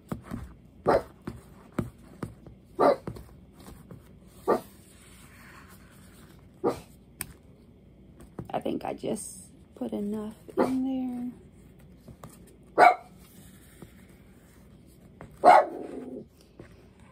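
A dog indoors barks at a delivery driver outside, sharp single barks repeated at irregular intervals, some in quick pairs, with a whimper or growl, while a person talks in a kitchen.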